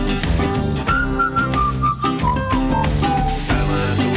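Someone whistles a wavering melody over loud backing music with drums and bass, the whistle steady and clear from start to finish.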